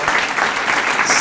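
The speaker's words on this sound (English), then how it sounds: "Can we get one more big round of applause for all these amazing unsung heroes?" A brief burst of dense, loud clapping from an audience honouring volunteers at a community fund awards event, with a faint murmur of voices under it.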